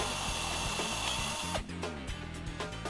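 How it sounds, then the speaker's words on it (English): A power drill fitted with a 1/8 inch bit opens up the hole in a spade terminal for a Quarter Master Ultra Duty starter, its steady motor whine running loud and close, then easing as the load changes. "Just chuck up a 1/8 inch bit in a drill and open the hole up."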